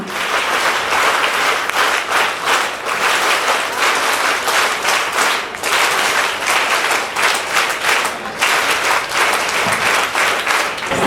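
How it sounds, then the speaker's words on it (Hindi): An audience at a school library inauguration applauds the Education Minister with sustained, loud clapping that fills the room and keeps going without pause. "आशीष सर का अपने अंदाज में तालियां बजाकर शुरू करते हैं।"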